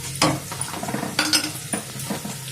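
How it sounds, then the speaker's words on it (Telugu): Onions with green chilies and curry leaves fry in hot oil in a pan, with soft sizzling broken by several sharp scraping strokes of a spoon stirring close by. "ఉల్లిపాయలు వేగిపోయి కదా,"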